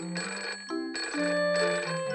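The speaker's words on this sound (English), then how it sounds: "Danny Dog has answered the phone." A cartoon telephone rings in a Peppa Pig game, giving bright electronic tonal bursts in a repeating melodic pattern, clear and alone with no voices.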